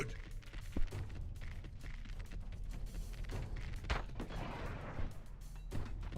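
A muffled explosion in the video game Everslaught, heard as a run of deep booming thuds and blasts at moderate volume amid continuous battle noise.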